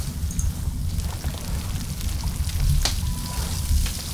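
Crabs cooking over a fire in the Stranded Deep survival game, a steady loud sizzle and crackle with a low rumbling bed and a few faint clicks, no talking.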